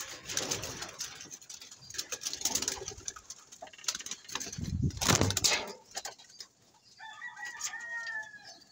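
Pigeons call close by, cooing and clucking in bursts over rustling, with a rooster-like crow and a brief chirping call near the end.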